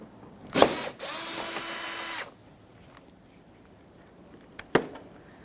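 A power drill runs in one short burst of about a second while backing Phillips head screws out of a 2005-2021 Nissan Frontier front bumper, with sharp clicks and knocks before and after it.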